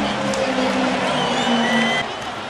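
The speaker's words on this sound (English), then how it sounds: "You hear the crowd." Baseball stadium crowd at a Yankees vs Reds game, a steady loud roar of cheering that swells and then eases slightly near the end, with no clear single voice standing out.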